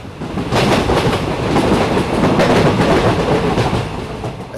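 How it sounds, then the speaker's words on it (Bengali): A train races along the rails through the dark night with a continuous loud rumble and clatter. Faint rhythmic clicks run beneath the steady roar, and no voices are heard. "রাত্রির অন্ধকারে হুহু শব্দে ট্রেন ছুটছে"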